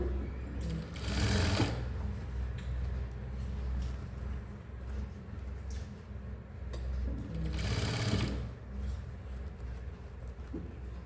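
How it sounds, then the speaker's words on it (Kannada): A sewing machine stitches the collar neck of a coat in two short whirring runs of about a second each, separated by quieter pauses with a low steady hum underneath. "ಫ್ರೀ ಹ್ಯಾಂಡಿಂದ ಸ್ಟಿಚ್ ಮಾಡ್ಕೊತ ಬರಬೇಕು"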